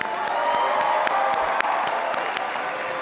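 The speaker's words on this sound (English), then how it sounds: "Let's give her a really nice round of applause." Audience applause at a world convention opening general session, a steady wash of many hands clapping with a few sharper claps standing out, continuous and fairly loud.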